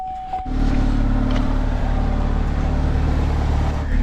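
A parked car's engine idles steadily on a cold morning in Canada, a loud, even rumble that starts abruptly after a brief quiet moment and holds continuously to the end.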